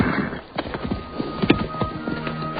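Horses clip-clop at a steady trot in a jungle film scene, hooves striking in quick irregular beats at close range with a brief whinny mixed in.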